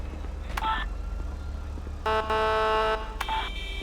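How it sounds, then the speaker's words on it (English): A police vehicle air horn gives a loud, steady blaring blast lasting about a second, with short electronic beeps just before and after it. "Air horn."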